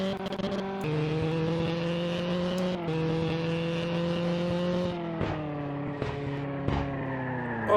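A racing car engine in a video game drones steadily at high revs, shifting pitch now and then with a few gear changes, with no talking over it.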